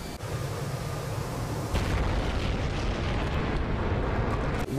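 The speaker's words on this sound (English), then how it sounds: "go and drop our bomb with auto mode like normal. Bombs away." A dropped bomb explodes in an F/A-18C Hornet flight simulator game, giving a loud, sustained rumbling roar that swells partway through and fills the clip, with no talking.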